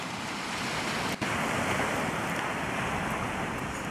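Steady, full surf roar of sea waves washing continuously on the south coast of Spain, with wind noise buffeting the microphone and no voices.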